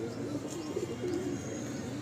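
Old pigeons in a home loft cooing softly, a low murmuring coo close by but quiet, with faint chirps and background noise.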